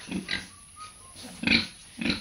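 A female pig on a farm grunts in short, separate bursts, several coarse snorts spaced apart with quiet gaps between them, close by and fairly soft.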